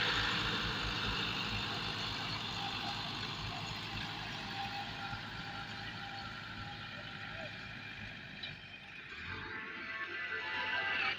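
Two tractors, a Massey Ferguson 385 and a YTO EMF 604, run during a top-gear speed test, their engines giving a steady droning rumble with wind noise, dipping briefly near the end.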